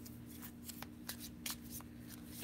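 Playing cards are shuffled several times in quick bursts, crisp riffling sounds close by against a faint background hum.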